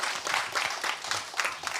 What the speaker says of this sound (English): can I get a big round of applause for the YMCA, please?